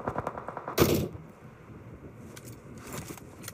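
Machine gun fire in PUBG Mobile during a competitive scrim match, a sharp loud burst near the start followed by quieter scattered shots and crackling in the background.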